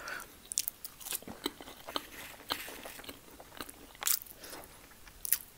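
Crunchy bites and wet chewing on spicy beef burger sliders and cheesy homemade chunky fries, close and intimate, with several sharp crunch bursts spaced across a quiet background and no talking.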